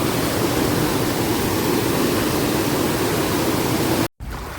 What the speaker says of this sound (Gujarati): જો આમ હબાવનો વરસાદ પડે છે